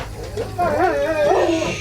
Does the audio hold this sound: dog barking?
yes